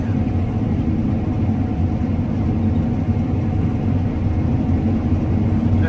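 Combine harvester driving through a field while cutting thick wheat in a heatwave, a steady loud low engine rumble and machinery drone running continuously and close, with no talk.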